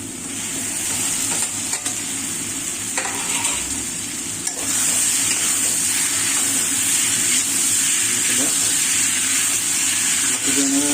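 Cauliflower and tomato mixture stirred in a hot pan, a loud continuous sizzle and hiss with repeated scraping strokes of a spatula, close by and uninterrupted.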